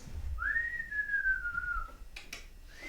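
A person imitates a man's creepy whistling: one long, clear whistled note that rises, then slowly slides down, heard alone and close, followed by a couple of brief soft noises.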